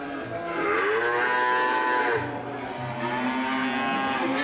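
A toy cow lets out a loud, drawn-out moo close by, with a second lowing call following, heard alone without talk in a setting of scattered toy animals.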